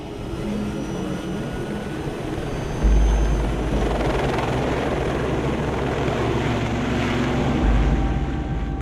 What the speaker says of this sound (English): Perdido is a very long flight for a helicopter